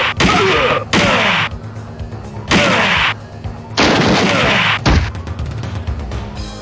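Loud arcade gunshots in Virtua Cop 2, repeated bursts of sharp close blasts with ringing decays, separated by short gaps and ending in a scattering of quicker hits.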